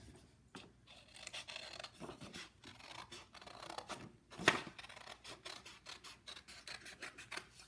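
Scissors cut a paper piece out by hand for a Halloween witch craft, with close, crisp snips and rubbing scrapes in an irregular rhythm and no talking.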